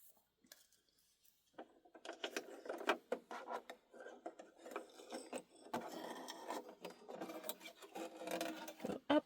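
A Brother SE1900 embroidery machine stitches through a thick patch, giving a quiet, uneven run of rapid clattering needle strokes with small clunks that start after a short silence and continue to the end.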